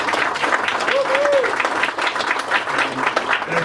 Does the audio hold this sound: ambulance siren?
no